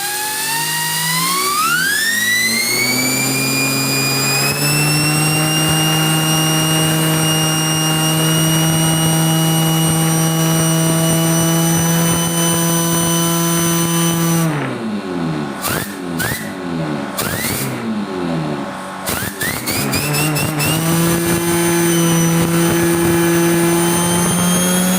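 Air-driven turbine fitted with an axial flux serpentine coil generator, blown by an air gun and spinning up to about 4200 RPM, a loud rising whine that climbs steadily in pitch, drops briefly in the middle, then surges again.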